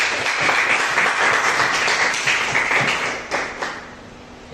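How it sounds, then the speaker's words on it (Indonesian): A class of students claps for a classmate, Mas Ito, in a lively burst that fills the room, then thins out toward the end with a few scattered taps. "Tepuk tangan untuk Mas Ito."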